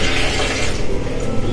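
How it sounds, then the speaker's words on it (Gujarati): Water pours into a mixer jar for a paan milkshake, a steady close splashing fill with no talk. "પાણી નાખી થોડુંક અને પીસવાનું છે."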